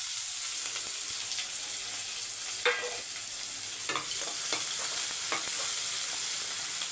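Onions fry in hot oil with mustard seeds, cumin, curry leaves and a green chili, crackling in a steady sizzle broken by a few sharp stirring scrapes, with no voices.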